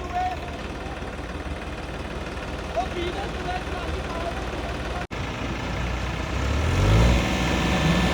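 Three four-wheel-drive tractors, including a Punjab-made tractor and a John Deere 5210, strain together to pull a trolley stuck in a field. A steady, loud diesel engine roar with voices mixed in swells into a deeper low rumble near the end.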